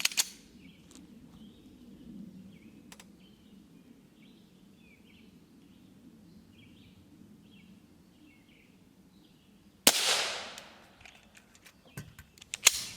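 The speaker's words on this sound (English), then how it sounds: "So we'll take a shot from each barrel length and see if we can penetrate this panel." Two 5.7x28mm 40-grain FMJ gunshots fired at an armor panel: a sharp loud crack around ten seconds in, then a second sharper report near the end, with faint background chatter and quiet room tone before.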